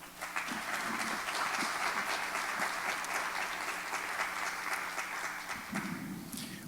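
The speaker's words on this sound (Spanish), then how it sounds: "Les pido, demos un fuerte aplauso" A lecture audience at an academic colloquium applauds a guest speaker with loud, sustained clapping that fills the room for several seconds before tapering off, with a low hum underneath.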